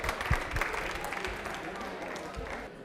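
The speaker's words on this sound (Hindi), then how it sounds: "सही है, ताली बजा दीजिए जोरदार।" Applause breaks out from the studio audience of a televised quiz show, a few strong claps at first, then a moderate, even patter that fades slightly toward the end.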